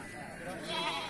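A Rambon goat at a livestock market gives a short, faint bleat amid the general murmur and bustle of the market.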